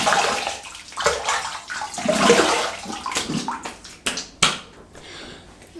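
Water splashing and sloshing as a face is rinsed after shaving, a close, busy run of wet splashes with a few sharp slaps near the end and no talk.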